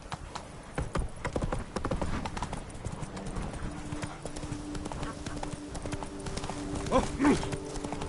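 Horse hooves clip-clop at a gallop in The Witcher 3: Blood and Wine, a steady rhythmic drumming throughout, with a rider's brief voice and a short neigh near the end.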